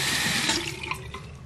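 Water running from a tap or being poured onto a sprouting Hoya Exotica houseplant, a steady close splashing flow for about a second and a half with no talking.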